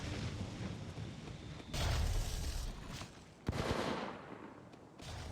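Bursts of gunfire in Apex Legends Mobile, moderately loud, with two or three distinct volleys separated by quieter stretches and sharp onsets around each burst.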